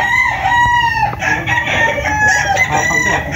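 Several gamecocks crow loudly and close at a cock and bullstag sale, their long calls overlapping with each other against a background of clucking fowl.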